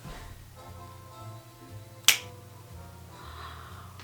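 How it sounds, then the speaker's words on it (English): A single sharp finger snap in a quiet living room, crisp and close, standing alone over a faint background hum. "I'm just gonna snap my fingers"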